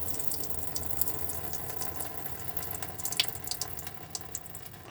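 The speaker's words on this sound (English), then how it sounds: "open them all up on the hot side of the water system" Hot water taps running inside a 2018 Adria Alpina Colorado caravan, a steady hiss of flowing water with small splashes and drips, close by and without talk.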